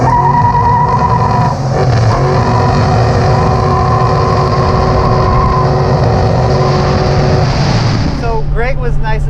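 A Dodge Charger Daytona with a Hemi engine idling loud and close with a deep steady rumble and a couple of blips of the throttle, then a sharp rev near the end; a voice speaks over it.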